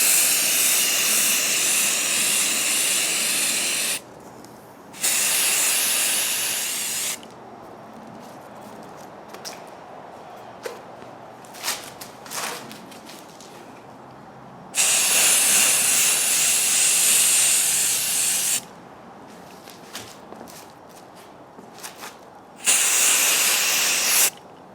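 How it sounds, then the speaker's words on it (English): Spray paint hisses from an aerosol can onto a Dollar Tree wall sconce in several long, loud, close bursts of a few seconds each, with quieter pauses and small handling knocks between them and no voices. "we are going to give this a coat or two of spray paint."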